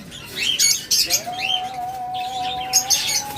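Lovebirds for sale chirping and squawking, bursts of high bright calls coming and going over a steady thin tone, close and fairly loud, no talk.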